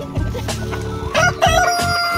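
A chicken crows loudly beside a PVC chicken coop, a full cock-a-doodle-doo close by with clucking from other fowl mixed in, and no talk.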